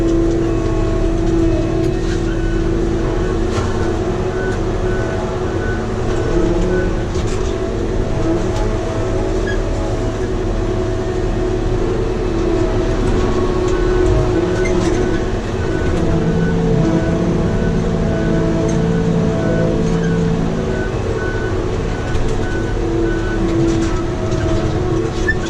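A Tigercat 724G forestry machine drones loudly and steadily from inside the cab on a ride along. A heavy engine hum and mechanical whine run throughout with low rumbles and clunks, and no one speaks.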